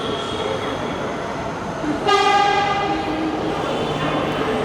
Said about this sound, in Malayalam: വനാജിലേക്ക് പോകുന്ന അടുത്ത ട്രെയിൻ കയറി വരുന്നുണ്ട്